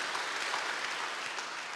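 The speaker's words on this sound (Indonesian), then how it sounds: "Tepuk tangan buat dia saudaraku." Congregation applauding during a Sunday church service, a steady, dense wash of clapping from many hands that fills the room, with no voices over it.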